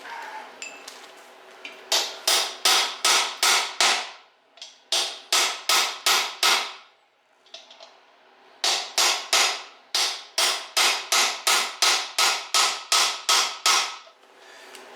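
Rapid bursts of sharp metallic hammer strikes on an aluminum part of a 1968 Pontiac GTO drivetrain ring out close by, in fast runs of blows separated by brief pauses.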